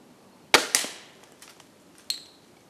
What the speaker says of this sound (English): Just gonna load it up, take a shot at a tree, and show y'all decocking bolt.